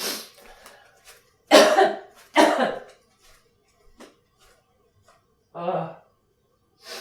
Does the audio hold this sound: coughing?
yes